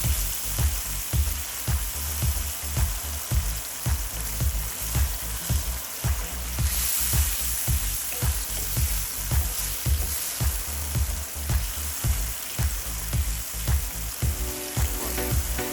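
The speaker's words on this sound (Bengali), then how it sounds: "সামান্য একটু পানি দিয়ে ভালো করে কষিয়ে নিব মশলাটা" Spice paste fries with a little added water in a pan while cooking puti fish bhuna, a steady loud sizzle and bubbling crackle with regular stirring scrapes throughout.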